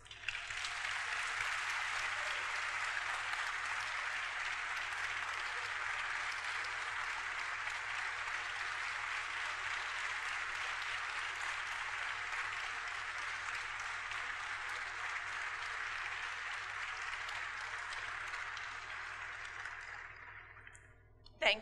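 A large audience at Notre Dame claps in long, sustained applause for 2019 Sorin Award recipient Ann Thompson, holding steady for about twenty seconds before tapering off abruptly.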